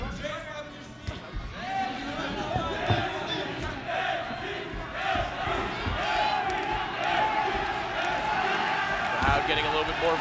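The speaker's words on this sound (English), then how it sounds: "Crowd getting a little bit more vocal" A crowd at a boxing match in Nagoya murmurs and shouts in a continuous wash of noise, with a commentator talking over it the whole time.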